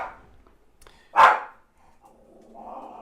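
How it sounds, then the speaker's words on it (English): Dogs bark at each other, one loud close bark followed by quieter, more distant answering noise in an otherwise still room. "They're barking at each other."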